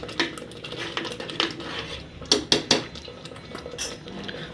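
Paneer pieces dropped into gravy in a cooking pan at home, giving a few clinking knocks of pot and utensil with soft stirring scrapes in between.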